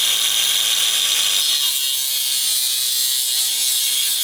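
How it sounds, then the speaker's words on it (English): An angle grinder cutting AN line during a turbo K-series Nissan Cefiro drift car build, a continuous high-pitched, close abrasive whine with no voices. "Not too bad with the old grinder though."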